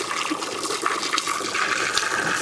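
Water runs downhill across ground in a chicken yard, a steady close rushing, splashing flow with no voices.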